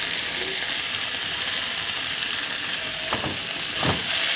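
Salted food fries in a pan with a continuous, close sizzle and a couple of soft stirring scrapes near the end.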